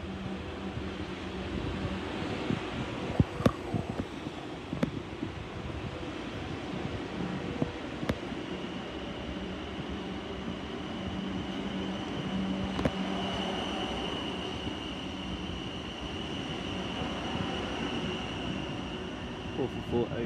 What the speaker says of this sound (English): class 444 Desiro, formed of 444024 on the service to London Waterloo from Weymouth